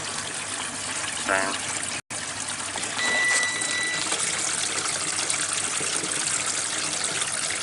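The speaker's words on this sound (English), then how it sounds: "doesn't leak as bad when the wash machine's on again" Water pours and trickles steadily from a leaking, draining washing machine, forming a continuous rushing flow with a brief voice at the start.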